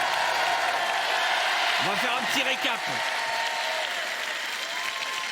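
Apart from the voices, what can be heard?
audience applause on a TV game show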